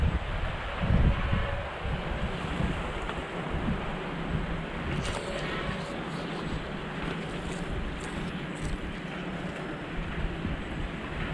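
Steady wind rushing across an open microphone, with a broad low rumble and buffeting gusts throughout, no voices.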